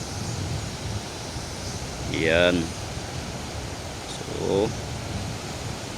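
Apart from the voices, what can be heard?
river water flowing over a spillway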